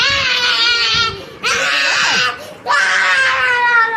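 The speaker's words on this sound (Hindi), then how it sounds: "देखो वो चिल्ला रहा है।" A young child cries loudly in three long, wailing bursts separated by brief pauses, close and strained, edging into screams.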